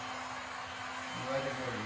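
A heat gun blows a steady, even whoosh close by over a resin pour, with a slight shift in tone near the end.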